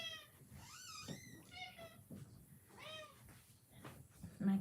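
A house cat meows several times indoors, rising and falling calls at close range, scattered across a few seconds with quiet gaps between.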